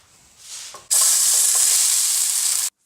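Sliced peppers go into a hot pan to cook and caramelize. After a quiet start, a loud, close, sudden burst of sizzling holds steady for about two seconds, then cuts off.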